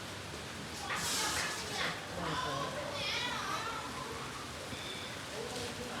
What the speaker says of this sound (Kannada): ಮಳೆ ಬರ್ತಾ ಇದೆ ಜೋರಾಗಿ ಬರ್ತಾನೆ